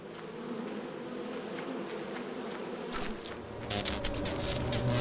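Bees buzz steadily around a beehive in a video game, a dense close insect drone that swells louder toward the end and carries on alone without talk.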